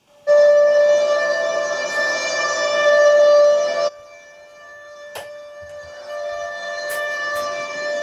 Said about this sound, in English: Alexa, play Air Raid Siren.